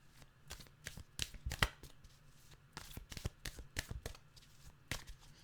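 Tarot cards being shuffled up close: quick, irregular bursts of riffling and slapping card edges with brief pauses between them.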